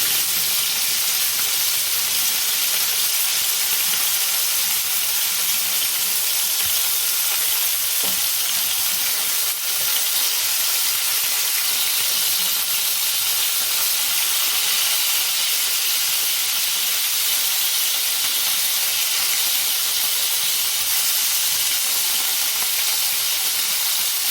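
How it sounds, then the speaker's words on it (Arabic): Kofta frying in a pan gives off a steady, loud, continuous sizzle and hiss that runs unbroken and close throughout, with no voices. "كده الكفته بتاعتي بدات تتحمر"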